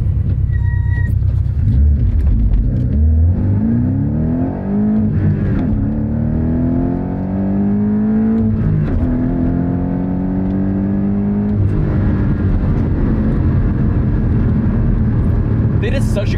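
Manual Toyota GR Supra with a tuned turbocharged engine pulls hard under acceleration, its note climbing steadily through the gears with brief dips at shifts, loud and close from inside the cabin over about sixteen seconds.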